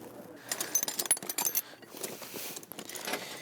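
Suspension wrenches clink and jangle in a rally family's garage, producing light metallic taps and rattles in a brief, busy burst at close range, fairly quiet, with no speech.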